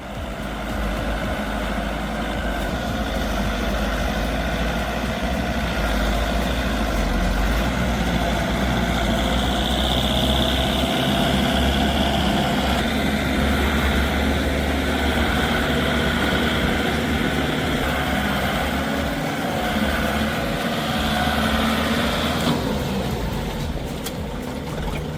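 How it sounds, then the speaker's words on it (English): Heavy tractors loaded with timber cross a rocky stream, a loud, steady low engine drone with a sustained rumble and a slight shift in tone near the end, with no talk. "tractors sluggishly crossed the rocky stream, loaded with an abundance of timber"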